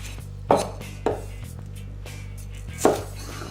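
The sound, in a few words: knife chopping half an onion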